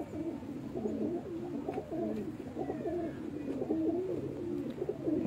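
Pigeons on a rooftop in Multan coo in repeated, soft, throaty phrases, moderately close, over a low background hum.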